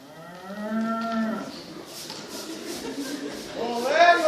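Cattle moo during a school theatre stage play, with one long, drawn-out moo early on and another rising moo at the end, separated by a stretch of soft background shuffling.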